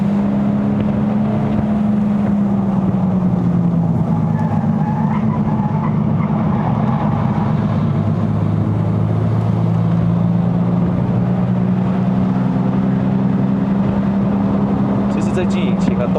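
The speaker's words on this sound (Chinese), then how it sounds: "这辆车有一个声音哦，是因为它的那个bearing 啊已经出声音了。" Steady road drone and low hum from a 2.0L naturally aspirated MK3 Ford Focus Sport+ driven on a mountain road, with a worn bearing groaning beneath the engine and tyre noise. A person talks over it throughout.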